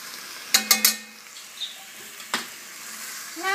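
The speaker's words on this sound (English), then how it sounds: "Now I'm just stirring it all up." Stew with little pieces of garlic is stirred in a pot, giving three quick metallic clinks close together, then a single later clink, with quiet stretches between.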